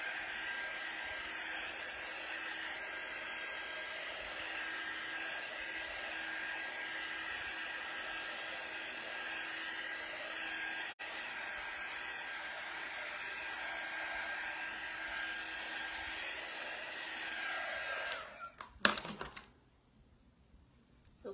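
A hair dryer blows steadily at close range while drying a cutting board, a long even whine with a faint steady tone that sputters and shuts off near the end, leaving quiet.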